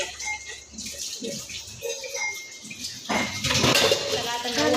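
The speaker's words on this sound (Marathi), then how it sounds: "पहिलं पाणी भांडे धुवून घेऊ" Tap water runs onto dishes being washed in a kitchen sink, splashing and clattering close by, with a louder gush near the end while someone talks over it.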